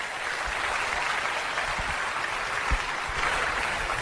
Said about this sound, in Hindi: बहुत बढ़िया तालियों के साथ वेलकम करें मीनाक्षी राणा का